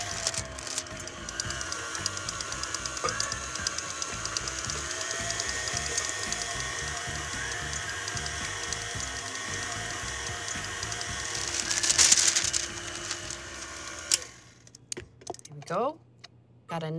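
A stand mixer runs on low speed mixing cake batter, a steady whirring motor hum with rhythmic rattling that lasts most of the stretch and then stops near the end.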